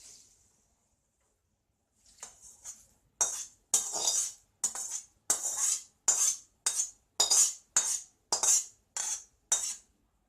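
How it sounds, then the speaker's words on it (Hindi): Thin poha being tossed with a turmeric tempering in a metal pan, heard as a run of about a dozen sharp, rhythmic scraping clinks of a spoon stirring, close and fairly loud, after a soft opening shuffle. "अब ये तड़का हम पोहे के ऊपर डालेंगे।"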